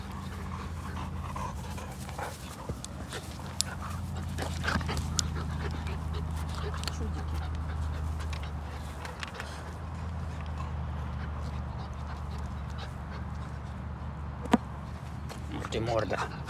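A bull terrier pants steadily and lets out occasional soft whimpers close by, while someone talks to it at length over a continuous low background.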